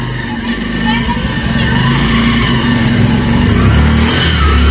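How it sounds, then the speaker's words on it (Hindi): A motorcycle engine revs loudly and steadily close by as the bike is brought indoors during an approaching storm, with voices talking over it. "पापा बाइक अंदर ले ले, ठीक है।"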